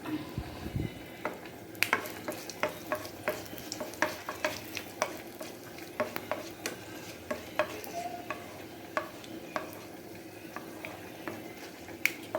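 Whole spices, including cloves and cardamom, fry in a pan for a chicken kurma, giving a soft continuous sizzle broken by frequent sharp scraping stirs and clicks, close and fairly quiet, with no talking.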